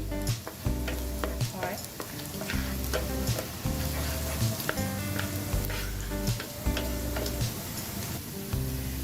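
Chopped garlic frying lightly in oil for a pat shaak (jute leaf) stir-fry, a steady close sizzle with a recurring low rhythmic thumping running throughout.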